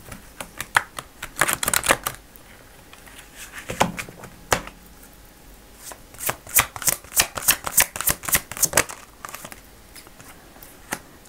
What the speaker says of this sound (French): je vais vous tirer une carte de la licorne ici, magique, bien sûr.